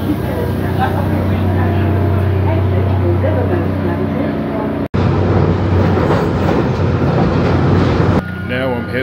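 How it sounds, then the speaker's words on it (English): London Underground train on the ride to Brixton rumbles and rattles loudly throughout, with a steady drone and clatter, a brief sharp cut midway, and squealing wheel noise near the end. "Okay, see you when I'm about to jump on the train."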